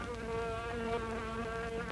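Buzzing insect swarm sound effect from a sci-fi film, a dense continuous droning hum with layered whining tones, steady and unbroken throughout.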